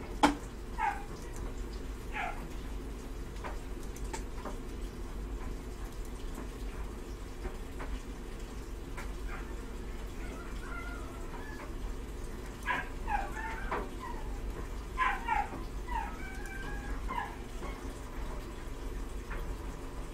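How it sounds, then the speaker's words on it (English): Several dogs, one of them a puppy, let out scattered barks, yelps and whimpers over a constant low hum, the cries coming in brief bursts with quiet stretches between them. "Dogs, freaking. My dogs, too."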